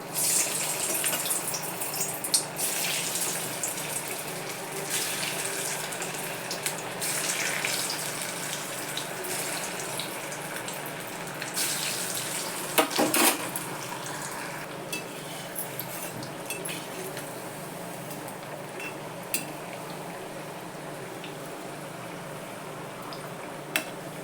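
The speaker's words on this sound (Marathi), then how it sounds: "तेल तापल्यावर तळायला घेते एक एक आता" Cabbage vadi fritters frying in hot oil over a low flame, a steady broadband crackle and hiss with light clinks of utensils, continuous and close with no talking.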